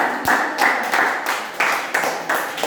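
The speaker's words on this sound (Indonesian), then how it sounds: "Teman-teman yang lain kita sambut sekali lagi dengan tepuk tangan." Students applauding in a classroom after a group presentation, a loud close burst of clapping in uneven surges, with a faint voice underneath.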